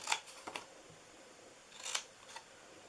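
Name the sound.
scissors cutting paper treat box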